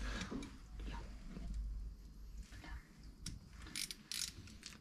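Ratchet wrench loosening nuts on a moped engine, a faint stretch of quick mechanical clicking and metallic handling in a quiet workshop.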